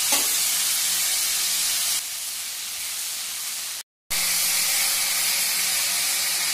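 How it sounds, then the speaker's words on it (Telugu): Cauliflower pieces frying in a pan for a dhaba-style masala, giving a steady loud sizzle and hiss that continues throughout, with one brief dropout of sound. "వేగుతుందండి."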